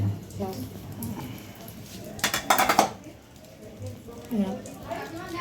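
Tomato chutney in wedding-feast style is scraped and poured from a pan into a serving dish. A short, bright clatter of a metal spoon against cookware stands out in the middle, with a person talking before and after.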